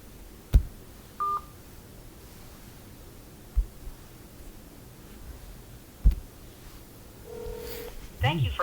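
A telephone number is punched in on a phone after hanging up, with short electronic keypad tones and clicks among faint line hiss before a ringback-like tone near the end.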